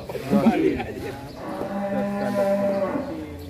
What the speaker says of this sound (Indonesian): Sapi kesayangan Pak Haji Gandong.